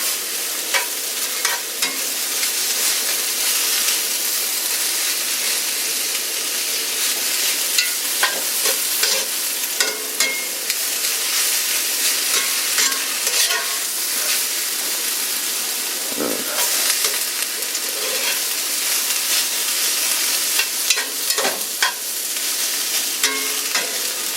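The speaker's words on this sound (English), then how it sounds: "these noodles are already cooked, so at this point all I'm really doing is heating them up. And stirring in all the vegetables." Precooked yakisoba noodles and vegetables are stirred and reheated in a cast iron pan, giving a continuous bright sizzle broken by frequent scraping and clacking stir strokes, with no talking.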